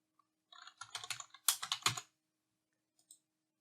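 Rapid typing on a computer keyboard, close and crisp, with runs of quick keystrokes building to a louder burst, then a pause and two final isolated taps.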